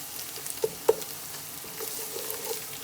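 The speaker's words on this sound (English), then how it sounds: "I'm going to add garlic. Then fry 2 minutes." Garlic and onions frying in a pan make a soft sizzle with a few distinct clinks and taps of a utensil early on, then a quieter, steady crackle.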